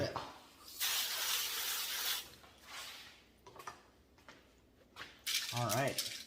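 Water sprays and splashes in irregular bursts over tumbled rocks, crazy lace agate and amethyst, in a 12lb Lortone tumbler barrel, with quieter gaps between bursts and a short rattle of stones near the end.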